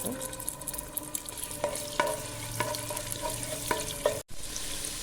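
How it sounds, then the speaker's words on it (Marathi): Garlic and ginger frying in hot oil for a vegetable bread sandwich filling, a close bright sizzle broken by clinking scrapes of a spoon against the pan, ending in a brief cut. "तेल बरें तापलेशी तापले नंतर लसूण हें अद्रक घातला"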